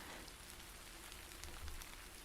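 Steady rain falls in a soft, continuous hiss of many scattered drops, faint and even throughout, with no voices.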